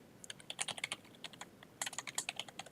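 Fingers tap out a folder name on a computer keyboard in two quick runs of close, crisp keystrokes separated by a brief pause, with no talking.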